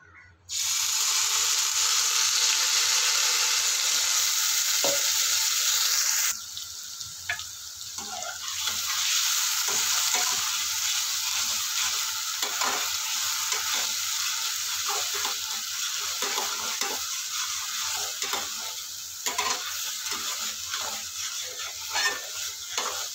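A bean mixture hits hot mustard oil with a loud, bright sizzle that drops abruptly after a few seconds. A quieter, continuous frying hiss follows, broken by repeated scraping and clacking as the mixture is stirred in the pan.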